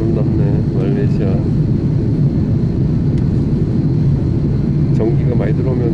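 Steady, loud cabin roar of an airplane in flight from Malaysia to Korea in the evening, with a voice speaking over the constant drone.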